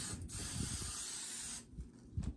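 A can of firm-holding hairspray sprays in one steady hiss lasting about a second and a half, close and fairly loud, followed by softer handling noise and a brief rustle.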